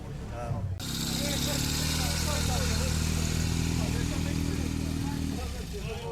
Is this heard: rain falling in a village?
no